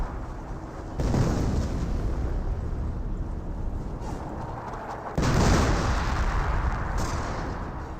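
Werfer rocket artillery barrage in Company of Heroes, a dense rumbling wall of blasts with two heavy onsets, one at the start and a louder one midway, sustained and fairly loud throughout.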